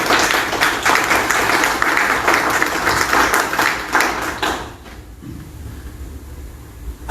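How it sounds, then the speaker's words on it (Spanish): An audience at a commemorative event applauds a speaker with loud, dense clapping for about five seconds, then it fades quickly into quiet room tone. "Un fuerte aplauso para él"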